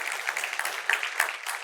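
A church congregation breaks into applause, a dense, steady wash of many hands clapping close by, with no voices rising above it.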